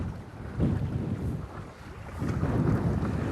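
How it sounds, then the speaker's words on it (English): Wind gusting across a boat on Lake Erie, rumbling and buffeting the microphone in uneven surges with waves washing beneath, loud and close with no talking. "You can hear the wind blowing, see the wind blowing, see the waves."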